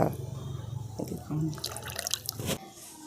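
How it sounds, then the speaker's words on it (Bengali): Homemade butter, churned from milk cream for ghee in a rural kitchen, is rinsed in water, giving steady splashing, dripping and trickling close by. A voice talks over parts of it. "আবার একবার আমি এই বাটারটা ভালো করে আবার এই জলের সাথে ধুয়ে নিচ্ছি।"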